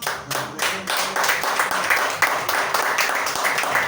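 A church congregation claps for the Lord during a sermon, with loud, close, dense hand claps that keep a rough rhythm for about four seconds.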